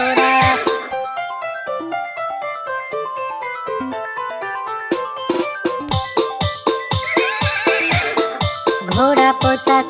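Horse neighing and galloping hooves in a Hindi children's nursery rhyme, set against a bouncy musical backing; a whinny-like sound near the start gives way to a steady run of clip-clop beats later on.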